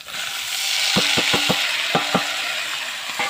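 Bottle gourd stirred into fried shrimp and neem leaves in a pan, with several sharp scraping strokes of a spatula over a loud continuous sizzle, coming in short bursts.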